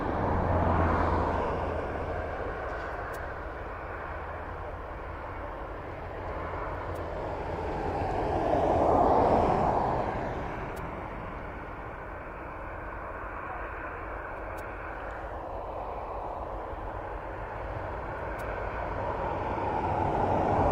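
Aircraft approaching an airport, a steady broad engine roar that swells to a peak midway and eases off, continuous and moderately loud with no clear speech.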